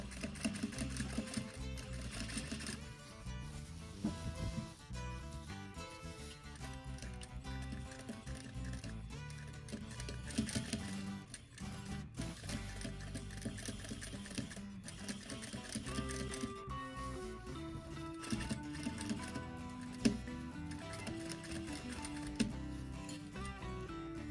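A sewing machine stitches fabric over pins, with a dense, rapid mechanical rattle that runs continuously up close, pulsing slightly as the speed shifts.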